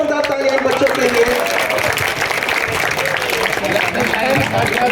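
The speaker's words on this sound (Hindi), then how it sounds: "जोरदार तालियां बच्चों के लिए।" Loud, sustained applause from a crowd cheering children at an annual Urdu literary society event in Janjira, Raigarh, India, steady across the whole stretch with voices mixed into the clapping.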